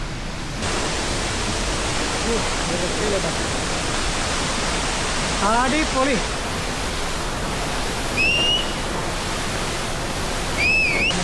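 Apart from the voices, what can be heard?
Njandirukki waterfall rushing water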